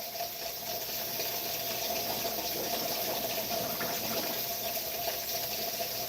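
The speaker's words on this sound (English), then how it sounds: "I wash my chitlins, and I'm going to show you how I wash them." Water runs steadily over hog chitlins being washed, probably in a sink, a continuous close rush of splashing flow that never pauses.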